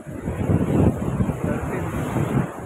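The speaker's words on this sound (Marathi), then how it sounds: "खूप सुंदर समुद्राचा आवाज येत होता, खूप छान थंडगार वारं होतं" Sea waves at Cola Beach, Goa, under a cool wind, a continuous rumbling surf with gusty wind buffeting the microphone, steady and fairly loud with no talk.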